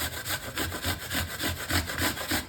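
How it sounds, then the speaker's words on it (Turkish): Apples being grated by hand for apple cookies, a steady run of about eleven rhythmic rasping strokes, close and fairly loud, with no talking. "Onun için elmalarımı rendelemeye başladım."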